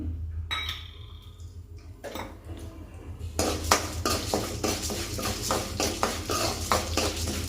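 Fenugreek seeds and urad dal go into a pan for Karnataka-style sambar powder, with clinks of a spoon against metal, then a rattling, scraping scatter of dry grains and stirring.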